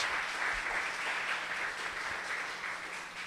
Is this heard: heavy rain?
no